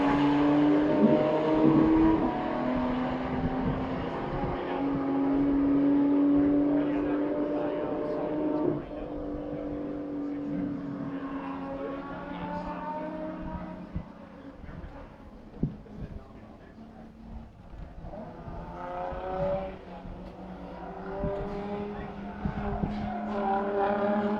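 Race cars lapping a race track at a 2021 NOLA morning session, with engines whining and rising and falling as they pass, plus some tire noise. Someone talks over most of it.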